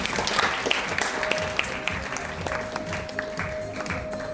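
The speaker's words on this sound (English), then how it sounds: "A big round of applause." An audience at a Rotary women's gathering breaks into applause, a burst of scattered hand claps that thins slightly over a few seconds, moderately loud in a room.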